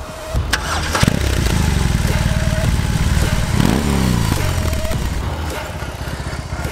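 A BMW R18 motorcycle engine starts with a sharp click, then idles in a deep, lumpy throb and revs once before settling back, close by.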